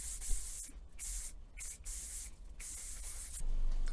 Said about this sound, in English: I'm gonna use a little bit more hairspray this time